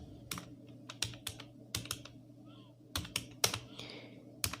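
Fingers typing on a computer keyboard while writing HTML code, quiet clusters of crisp key clicks in an irregular rhythm over a faint background hum.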